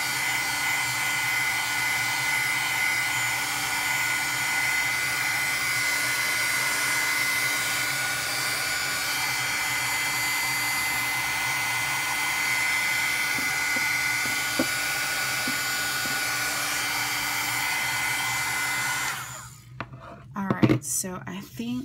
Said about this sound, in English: Make sure not to put your finger underneath the heat gun though, because like I said, this thing gets super,